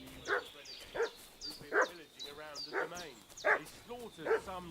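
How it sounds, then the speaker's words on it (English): A dog in Kingdom Come: Deliverance II barks about six times in a steady rhythm of short, sharp yelps, close and clear, over quiet ambience. "What's that dog making such a fuss about?"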